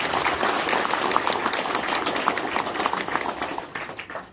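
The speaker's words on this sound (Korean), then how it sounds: "제 말씀에 공감이 있는 분만 한번 박수 한번 쳐주시기 바랍니다." An audience at a provincial governor's policy briefing breaks into applause, a loud, sustained patter of many hands that eases slightly toward the end.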